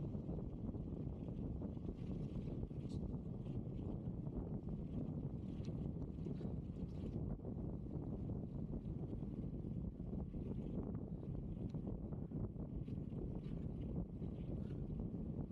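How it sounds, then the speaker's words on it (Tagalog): Strong wind buffets the microphone throughout a bike ride on a desert cycle track, a continuous loud low rumble with gusty fluctuations and no talking. "Itong hangin naman, walang patawad."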